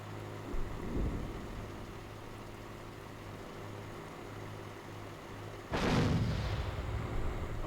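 Tank cannon fire in the Steel Beasts Pro combat game: a faint distant thump early on, then one loud, sharp boom that rolls into a rumbling decay, over a low steady engine hum.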